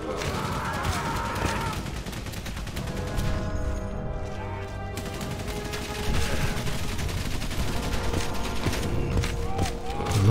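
Machine-gun fire from the trench-warfare game Valiant Hearts: The Great War, a dense, sustained clatter of rapid shots running throughout with battle noise mixed in.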